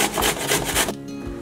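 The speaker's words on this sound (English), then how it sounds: "So I am grating the radish." Radish being grated by hand for a methi and muli parantha, giving repeated rasping scrapes in a steady back-and-forth rhythm, close and clear, ending with a brief quieter pause.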